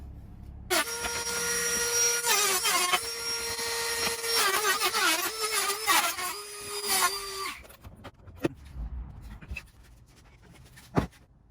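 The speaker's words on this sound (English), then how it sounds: "we are going to be using the Milwaukee Dremel to go ahead and cut that side piece out" A Milwaukee rotary tool cuts out the side piece of a custom iPad dash panel. Its high, steady whine dips and wavers in pitch over several seconds before stopping, followed by a few faint clicks and knocks.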